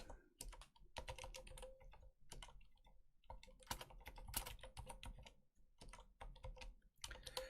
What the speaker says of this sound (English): Alex is currently typing the answers to the rounds for the people that missed it